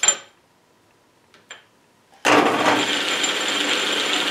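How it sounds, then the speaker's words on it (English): A South Bend 11 metal lathe runs on replacement gears, a couple of faint clicks giving way to an abrupt, steady, loud mechanical whir and gear grind that continues without pause. "I think I got some other noisy gears in there."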